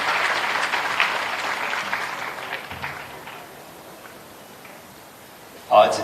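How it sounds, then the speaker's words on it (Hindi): A crowd at a public event in Jabalpur with Chief Minister Mohan Yadav claps loudly for about three seconds, then the applause thins out and fades into room noise before a brief sharp knock. "तालियां सभी सहभागी बने।"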